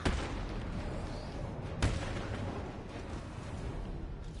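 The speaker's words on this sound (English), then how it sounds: "That's a Blast Bomb" A Blast Bomb goes off in a video game with a low, rumbling boom and a sharp blast midway, set against a constant roar of background game noise at modest volume.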